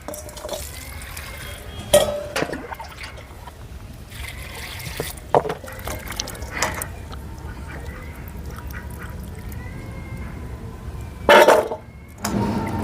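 Cut pieces of taro root (mankochu) being washed by hand in a bowl of water, with repeated sloshing and stirring splashes and a few louder bursts of handling near the end, with no talking.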